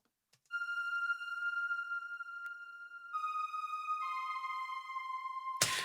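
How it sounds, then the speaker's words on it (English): High, sustained reFX Nexus synth string tones hold long notes that shift pitch a few times, ending with a burst of noise; no voices. "the synth strings. And these are playing those really high notes that give the track its sparkle"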